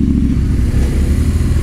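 A BMW R 1200 RT motorcycle engine runs loud and close with a deep, steady low throb and no talk, as the rider shifts into first gear.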